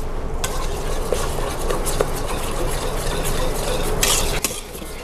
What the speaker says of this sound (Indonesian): saya aduk pakai whisk